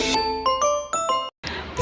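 A bright bell notification chime rings out in a quick sequence of four tinkling, ding-dong strikes, each fading briefly, then a short gap and another chime burst, with no talking.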